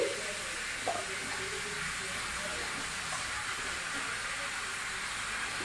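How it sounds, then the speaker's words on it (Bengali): Pumpkin pieces drop into a pan of cooking vegetables for a mixed vegetable dish with fish head, producing a brief clatter followed by a steady, broad hissing sizzle that continues throughout. "তো এখানে আমি কুমড়োটা দিয়ে দিচ্ছি।"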